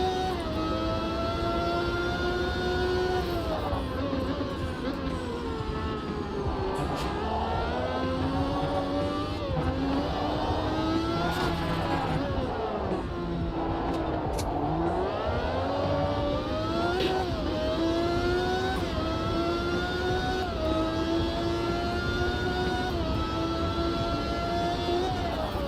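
Turbocharged race cars in a racing video game roar continuously, their engine pitch climbing and dropping through gear changes and spooling turbos, loud and sustained throughout.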